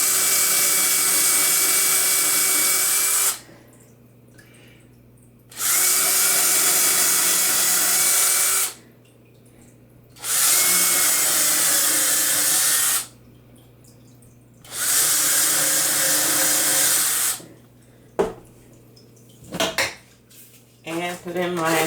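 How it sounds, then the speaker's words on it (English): A power drill boring pilot holes for a wood and pipe shelf: four loud, sustained bursts of high whining drilling, each a few seconds long with short pauses between, followed by clicks and handling noises. "drill my pilot hole"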